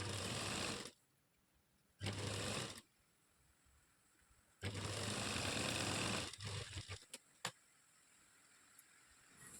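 An electric sewing machine stitches folded-in fabric in several separate bursts of whirring, with quiet gaps between runs and a few brief clicks near the end.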